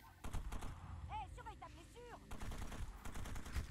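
Gunfire in the Far Cry 2 video game, several close rapid shots cracking over background game noise, with short whistling tones in the middle of the burst.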